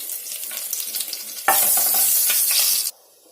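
Dried red chillies, mustard seeds and cumin fry in hot oil with a steady, close crackling sizzle that jumps louder midway as more goes in, then drops suddenly to a faint hiss near the end.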